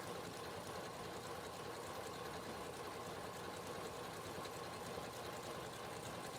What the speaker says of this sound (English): I am just finishing up with the stitching of that pillow back